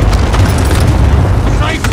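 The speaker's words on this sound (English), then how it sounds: "Precision airstrike nest." An airstrike explosion in an online battle-royale shooter game booms continuously and loudly, a dense rumbling blast that fills the whole moment.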